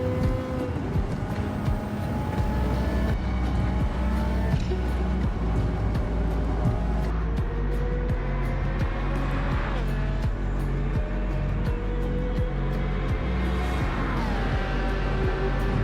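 A race car in Gran Turismo 7 holds a steady, loud engine drone with rising and falling gear pitch throughout, sustained and close, with no break in the roar.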